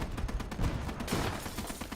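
Distant, muffled gunfire in a military video game set in an alternate-history USA versus Soviet conflict, with a rapid run of overlapping shots and rumbling bursts at moderate-to-low loudness and no talk.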